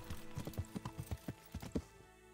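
Horse hooves clip-clop at a steady trot while riding in the medieval video game Kingdom Come: Deliverance, about ten distinct thudding steps, close and fairly quiet, with no talking over them.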